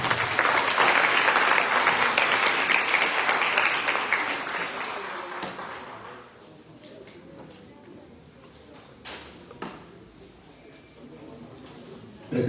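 Audience applause for the engineering faculty dean at a university academic-year opening ceremony in Chilca, loud dense clapping for about five seconds that fades into quieter room sound with scattered claps and faint voices.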